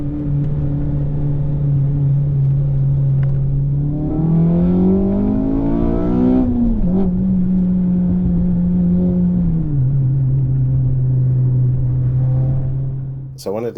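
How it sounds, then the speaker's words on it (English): A car engine drones from inside the cabin on a race track at Bedford Autodrome, rising in pitch as it revs up, then settling back to a steady hum, loud and continuous. "you can actually hear so much more of the engine"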